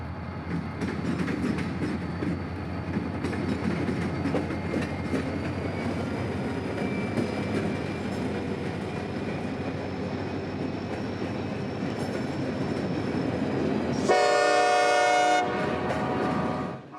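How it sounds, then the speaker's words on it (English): L744, the Brunswick freight local, is led by a single SD40-3 locomotive as it leaves the yard at twilight. A steady low rumble and rolling noise carries throughout, and a loud horn blast sounds near the end. "L744, the Brunswick local, now finally leaving the yard after waiting his turn until twilight"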